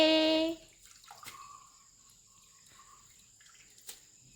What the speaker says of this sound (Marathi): इकडं तांदळामधलं पाणी काढत आहे अशा प्रकारे.